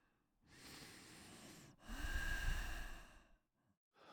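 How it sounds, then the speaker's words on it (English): Two long, audible ujjayi yoga breaths with a soft throaty hiss, the second stronger and rougher, heard alone in a quiet space. "It sounds like what? Ujjayi breathing."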